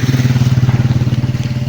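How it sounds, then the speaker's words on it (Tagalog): A motorcycle engine sounds close by on a road leading to the highway, giving a loud, rhythmic low pulsing throb over a short span. "So may dumaan dito na isang motor tol"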